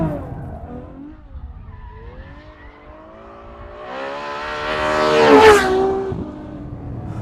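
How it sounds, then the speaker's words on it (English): Ferrari F12berlinetta V12 building revs as the car oversteers with ESC off, with tire squeal and skidding rising over the engine to a loud peak and then easing, heard from inside the car. "We give it a little bit of gas. Oh, and it oversteers quite a lot."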